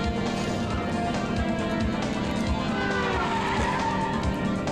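Arcade racer Cruis'n World on N64: a car drifts with continuous tire squeal and skidding over a steady engine roar, loud and unbroken throughout.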